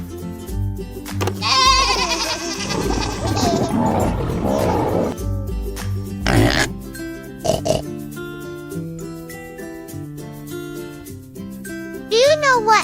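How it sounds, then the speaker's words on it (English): A goat bleats in a farm-animal learning setting for kids, several loud, wavering cries in the opening seconds over light background music, followed by quieter scattered sounds and another brief burst near the end. "Goat."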